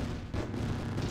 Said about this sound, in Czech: Zničíme tohle dělo.